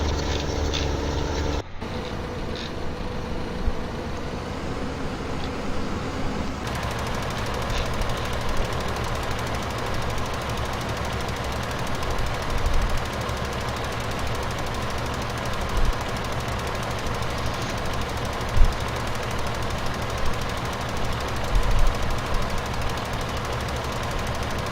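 Steady droning engines of a windrower and other farm machinery in Farming Simulator 2015, a continuous low rumbling hum with faint knocking textures running unchanged throughout.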